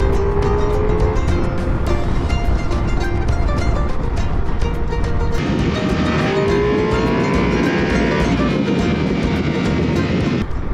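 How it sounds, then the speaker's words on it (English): Ducati Multistrada V4 motorcycle engine under way on a road ride, a loud continuous rumbling drone with rising revs and wind roar throughout, no voices. "once you get the Ducati motor wound up towards redline, things get exciting real fast"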